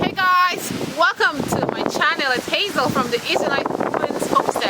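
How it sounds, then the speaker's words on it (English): Someone talks close to the microphone while gusty wind buffets it, adding a low rumbling roar under her voice throughout. "It's a very, very windy day today, so excuse the wind."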